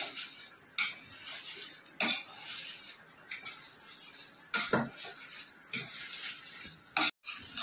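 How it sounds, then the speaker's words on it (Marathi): A metal masher pressing and scraping onion and capsicum as they roast in oil in a pan, with repeated clanks and scrapes over a steady sizzle, close up and without talk. "कांदा आणि शिमला मिरचीला पण मी स्मॅशरने शेकवते भाजताना"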